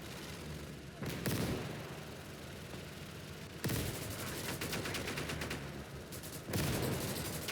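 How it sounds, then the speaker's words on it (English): Mortar fire in the World War II strategy game Call to Arms: Gates of Hell, three loud crashing impacts spaced a few seconds apart, each with a rumbling tail, over a steady battlefield din and occasional talk. "Mortars are the bane of my existence."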